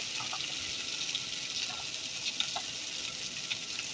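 Crabs sizzling in hot oil in a pan, a steady, dense frying hiss with occasional small pops and crackles, close up and continuous with no talking.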